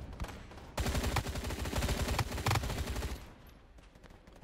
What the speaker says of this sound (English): Oh, he's gonna shoot me!